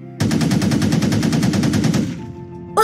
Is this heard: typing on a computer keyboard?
no